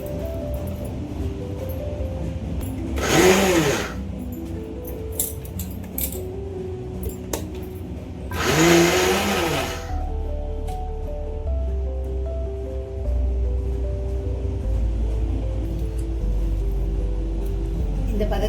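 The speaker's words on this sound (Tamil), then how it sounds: "இந்த பதத்துக்கு கொரகொரப்பாக அரைச்சிக்கோங்க." A mixer grinder coarsely grinds banana flower vada batter in two short, loud, rattling bursts a few seconds apart, with quieter handling noise between and after them.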